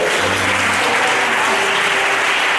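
A church congregation at a Sunday service applauds to acclaim the Lord, with steady, dense clapping that fills the whole room without a break and no talk over it.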